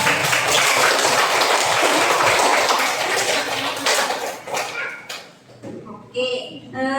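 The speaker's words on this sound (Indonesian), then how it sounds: "Kita tepuk tangan dulu." Classroom of young schoolchildren applauding together, a dense burst of clapping for several seconds that thins into scattered claps and children's voices.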